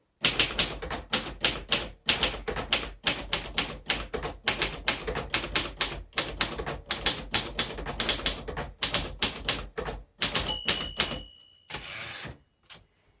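Keys of a 1953 Royal Quiet DeLuxe manual typewriter clack in quick, steady bursts, close and loud, with short pauses between runs and a brief carriage shift near the end.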